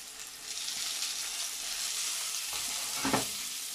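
Tomatoes, coriander and curry leaves frying in a pan with a steady close sizzle throughout and a brief louder clatter of stirring near the end.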